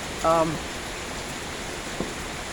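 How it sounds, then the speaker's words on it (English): Steady rain falling in Delhi, a continuous broadband hiss of drops throughout, with a brief whistle-like tone near the start and a single faint tap later. "In fact, you see the rain falling."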